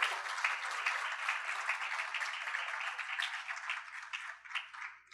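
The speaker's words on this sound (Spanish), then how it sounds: "Les voy a pedir un fuerte aplauso para el CIES por sus 30 años." Applause from an audience at a CIES 30th anniversary event on productive development, steady clapping that holds for several seconds before tapering, fairly faint and distant, with no voices over it.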